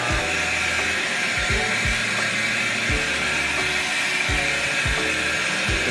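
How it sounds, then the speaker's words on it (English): A pre-treated carpet being scrubbed by machine, a continuous close whirring drone broken by regular soft thumps roughly every half second, steady and loud with no voices. "So I already pre-treated. It's been dwelling for a few minutes. Now I'm gonna scrub it."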